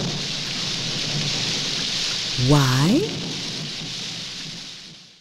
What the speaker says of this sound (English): Oh no! She says, it's raining.